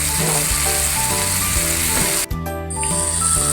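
Thinly sliced pork stir-fries with curry paste in a pan, giving a loud, constant sizzle with rattling stirring scrapes and a brief dip partway through.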